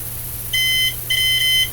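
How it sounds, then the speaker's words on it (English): An electronic meter beeps as its reading passes a threshold near 80 volts, giving two short, high, steady electronic tones in quick succession, clear and close over a low background hum. "there is where it starts to beep"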